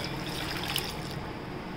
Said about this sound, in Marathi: आता याच्यात पाणी टाकूया